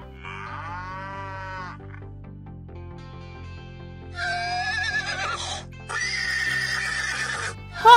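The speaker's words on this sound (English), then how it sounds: "Horse." A horse gives a loud, shaky whinny followed by further neighs and snorts, near and clear over light background music, with no one talking.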